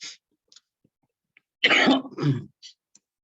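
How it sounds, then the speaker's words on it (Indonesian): A few sharp coughs and throat-clearing sounds, close and fairly loud, with brief quiet gaps and small clicks around them. "wah banyak yang batuk di rumah"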